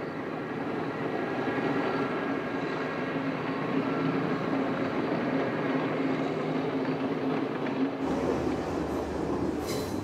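A train climbing through Sri Lanka's rainy mountains rumbles continuously, a steady low roar with clattering undertones heard from inside the carriage, shifting in tone near the end as the noise thins and brightens.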